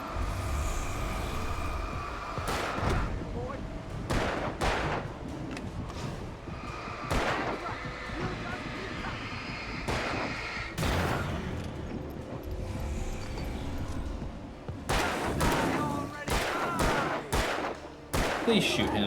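Gunfire in the video game Alan Wake, sharp shots cracking in irregular bursts and volleys over a constant rumbling game backdrop, with voices talking between the shots.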